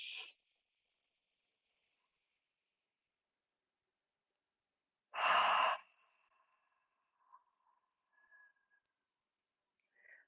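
Slow, deep yoga breaths sound as soft airy exhales and inhales, a brief one at the start and a longer one midway, separated by near silence.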